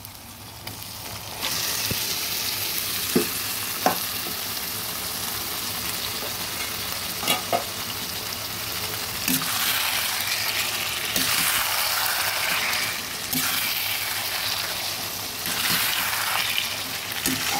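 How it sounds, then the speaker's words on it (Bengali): Marinated desi chicken hitting hot oil in a pan, a loud continuous sizzle with intermittent scraping and stirring, close up and without talk. "এবার ম্যারিনেট করা মাংসটা দিয়ে দেব। মেখে রাখা মাংসটা দিয়ে দিলাম।"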